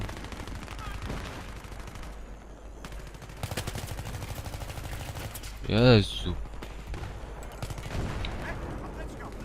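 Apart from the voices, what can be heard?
gunfire in the video game Battlefield 3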